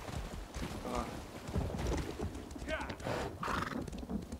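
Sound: horse neighing and hooves while riding, from video game Elder Scrolls Online

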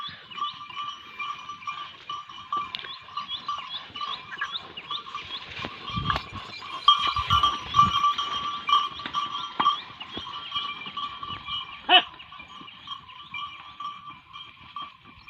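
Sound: oxen walking

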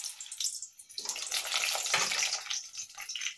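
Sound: potatoes sizzling as they go into hot oil in a wok

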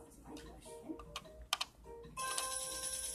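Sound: phone ringtone

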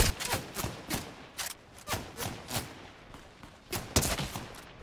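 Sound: gunfire in the video game Fortnite

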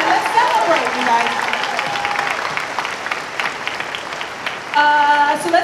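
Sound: audience applause for the Walking Dead panel

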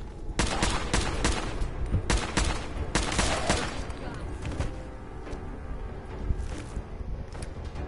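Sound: assault rifle gunfire in video game Fallout 4

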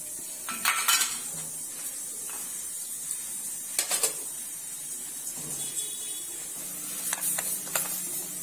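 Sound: metal idli cooker vessel being handled

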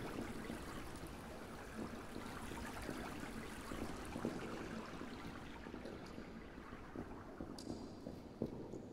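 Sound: river flowing in a cave, from the video game Subsistence

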